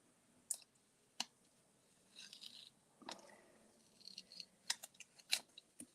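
Stamped paper bunny cutout tearing in soft, quiet bursts, with scattered crisp paper crackles and sharp clicks spread across a few seconds close by.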